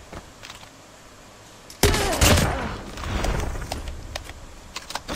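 Gunfire in the mobile shooter Call of Duty Mobile, a sudden loud burst of rapid shots after a quiet stretch, followed by a sustained rattle of continued firing that tapers off with scattered pops.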